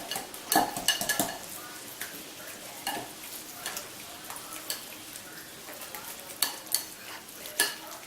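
A whisk stirring a mixture in a bowl, giving quiet, irregular metallic clinks and scraping taps, with a few sharper strikes near the start and scattered ticks throughout.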